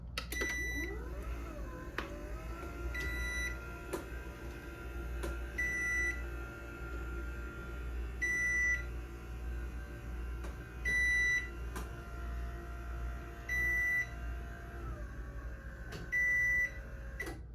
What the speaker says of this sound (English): in battery backup mode, it obviously moves way slower and the lights do not come on